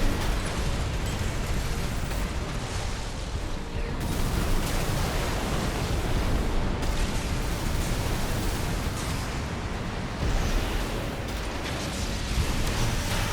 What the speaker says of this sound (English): I thought the coral explosions have less range than the regular ones.